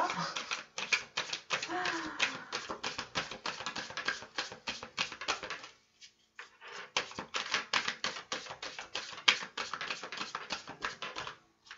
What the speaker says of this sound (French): je trie bien mes cartes, je ne les regarde pas